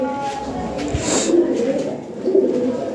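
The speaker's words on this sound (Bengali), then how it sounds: "অনেক সুন্দর কবুতর।" Lahori Sirazi pigeons cooing nearby, a couple of soft, low coos over quiet background noise.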